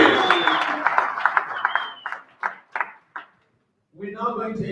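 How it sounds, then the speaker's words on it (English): An audience at a community pitching competition applauds the finalists with scattered claps that thin into a few separate handclaps, then fade to silence before a voice resumes. "Give them all a round of applause."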